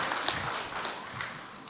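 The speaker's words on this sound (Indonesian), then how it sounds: "Mungkin boleh tepuk tangannya para jamaah." Congregation applauding a guest at an Indonesian gathering, a short, fairly quiet patter of clapping heard at a distance.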